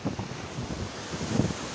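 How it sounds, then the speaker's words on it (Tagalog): Strong typhoon wind roars steadily against the microphone in heavy rumbling gusts, with a broad rushing noise over a low buffeting, in Pangasinan, Philippines. "yung hangin pa lang niya ha. Hangin. Lakas na oh."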